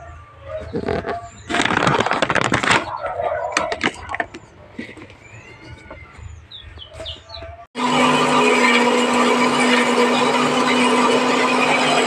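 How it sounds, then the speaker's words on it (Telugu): A mixer grinder blends coconut and peanut chutney in a jar. The loud, steady whirring starts abruptly and runs through the last four seconds, after a quieter stretch of household background with bird chirps. "ఇంక ఇప్పుడైతే మిక్సీ జార్లో వేస్తాను. మిక్సీ అయితే పెడతా."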